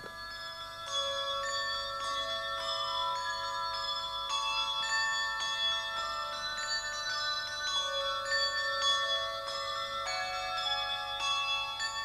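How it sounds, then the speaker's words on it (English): Several handbells over 100 years old ring in overlapping, sustained tones inside York Minster, struck in a steady sequence with a soft resonant ring, moderately quiet and without talk. "Quite a lot of people are interested in the sound of the handbells"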